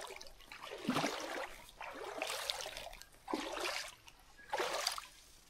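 A cold running mountain stream on a hiking trail up Mount Kohukohunui splashes faintly in four separate gushing bursts, as if water is being scooped or stirred near at hand.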